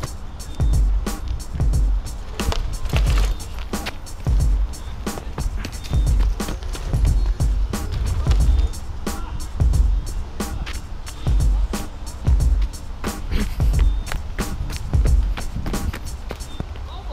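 Mongoose Title Pro XXL bike riding down a dirt hill, a steady rough rumble broken by repeated sharp knocks and rattles as it bounces over the ground, loud and close throughout.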